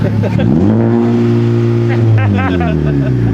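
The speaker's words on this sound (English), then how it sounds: "that's like a rev limiter neutral" A 2021 Honda Civic Type R engine revs up sharply in neutral, holds a loud steady drone near the rev limiter, then drops back, close to the listener, with people talking over it.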